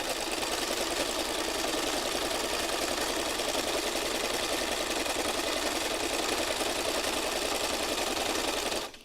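A sewing machine stitches fabric for a mixed-media craft heart with a steady, close, even whirr that runs without a break and then stops abruptly at the very end.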